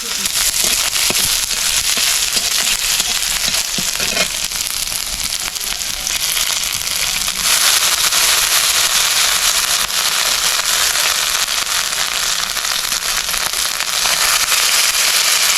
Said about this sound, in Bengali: ওই যে তেলের মধ্যে কিন্তু এখন তেজপাতা আর পাঁচ ফোড়ন দিয়ে দিয়েছে তার মধ্যে দেখো পেঁয়াজ দিয়ে দেওয়া হলো